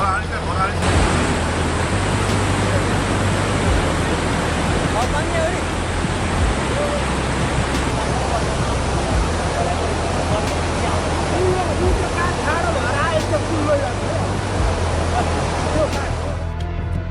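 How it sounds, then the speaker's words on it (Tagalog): The flooding Trishuli River in Nepal's Dhading District rushes loudly and steadily, a continuous roar of churning water with no pauses throughout. "Naitala rin ang malakas na pag-apaw ng tubig sa Trishuli River sa Dading District."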